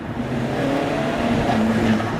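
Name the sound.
Alfa Romeo 4C turbo engine revving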